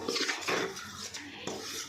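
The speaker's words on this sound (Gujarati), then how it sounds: "એક બીજા વાસણમાં ઠરવા માટે મૂકી દઈશું" A metal pot clanks and scrapes while dark-brown roasted lapsi flour is moved into another vessel to cool, a few soft, close knocks and clinks without any speech.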